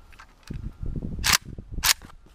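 Two sharp metallic clacks of an AK-47 rifle's charging handle being pulled back and released, loud and close, about half a second apart, with a quieter handling rattle and low rustle before and between them.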